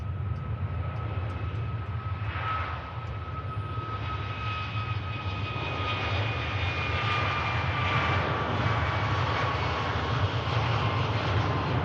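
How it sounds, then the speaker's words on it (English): Airliner jet engines taxi out at Manchester Airport, an EasyJet jet bound for Paris followed by an Air France jet, giving a steady distant roar with a thin whine, rising gently in loudness. "EasyJet out to Paris on the taxi out, followed out by the Air France following the same direction."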